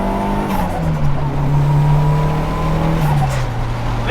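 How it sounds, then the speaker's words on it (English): Turbocharged Toyota Starlet pulling hard through the gears on a highway on-ramp, engine droning loud and close, with pitch steps at the gear changes and bursts of turbo flutter between shifts. "this makes the best flutter noises for a little car"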